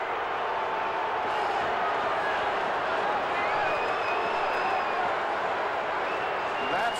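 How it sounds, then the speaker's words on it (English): Stadium crowd noise at a 1979 New York Giants versus New Orleans Saints football game, a steady loud roar of cheering spectators throughout, with a commentator speaking over it. "Listen to the crowd."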